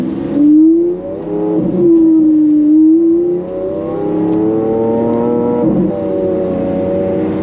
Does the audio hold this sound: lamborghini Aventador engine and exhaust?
yes